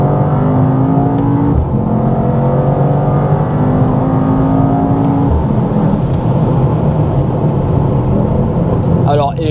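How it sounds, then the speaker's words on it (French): A Mercedes-AMG GT 63 S E Performance with 843 hp accelerates hard, its engine note climbing in pitch through successive gear changes, loud and close from inside the car, with some talk. "j'ai eu une petite envie voilà, d'accélérer."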